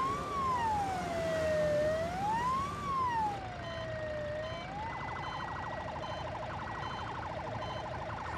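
A loud police siren wails up and down near by, then switches to a rapid yelping tone that continues steadily, heard from a car stuck in a traffic jam.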